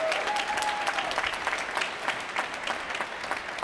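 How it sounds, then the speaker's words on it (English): A university graduation ceremony audience applauds steadily, dense clapping from a large crowd filling the space with no voices on top. "And they deserve a round of applause."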